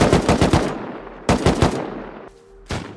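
AK rifle gunfire in the video game Rust: two loud, close bursts of rapid automatic shots, a short pause, then a third burst cutting in at the end.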